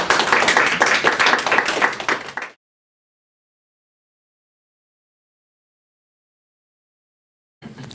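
Audience round of applause after a lecture, brisk clapping for about two seconds that stops abruptly into silence, followed by a brief return of sound near the end.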